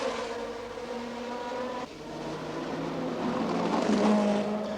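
Formula 1 race cars at the 1969 Monaco Grand Prix scream past at close range, their high-revving engines rising and overlapping in a continuous loud roar with shifting pitch as they stream by.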